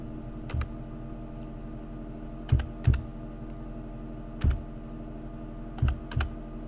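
Keys tapped on a computer keyboard while entering a password into an online government application form, a few sparse clicks in small pairs, close and distinct over a steady background hum with no talk.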